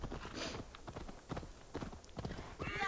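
Horse hooves clip-clopping in the video game Assassin's Creed Valhalla, a quick, irregular run of close hoofbeats with game ambience around them.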